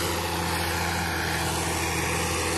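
The rebuilt engine of an old John Deere 3530 tractor runs at a steady idle, a close, constant, low mechanical drone with no voices.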